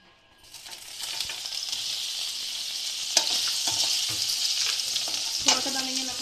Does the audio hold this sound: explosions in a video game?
no